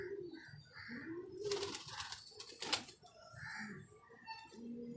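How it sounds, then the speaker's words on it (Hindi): Pigeons coo softly in a series of low, rounded calls, with a brief burst of wing flapping or rustle midway; fairly faint and close, no talk. "ये कबूतर है दोस्तों"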